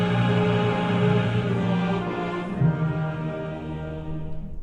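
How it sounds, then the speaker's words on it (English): Czech national anthem playing as sustained orchestral or choral music, loud and continuous throughout with no talking. "With the flag comes the anthem, which sounds like this."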